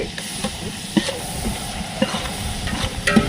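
Ginger garlic paste sizzles in hot oil while being stirred for a mushroom biryani cooked outdoors by a field, giving a steady frying hiss with a few soft knocks of the spoon, close and fairly loud, with no voices.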